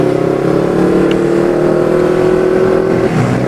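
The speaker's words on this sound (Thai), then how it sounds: "นะกระบะซิ่งกระบะซิ่งโอ้โหกระบะซิ่งครับกระบะซิ่ง" A modified pickup truck with a loud engine roars past on a road with traffic, its sustained engine drone steady and close before dropping in pitch near the end, with no talking.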